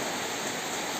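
Rain falling, a dense, even hiss of steady downpour filling the whole moment, loud and continuous with nothing else standing out.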